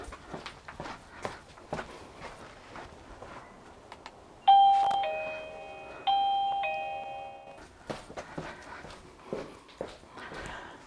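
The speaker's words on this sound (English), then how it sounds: "I'm just going to go and ring the bell" An XTU doorbell camera chimes twice, each a clear two-tone ding-dong that rings out and fades, between scattered footsteps and small knocks around a home entrance.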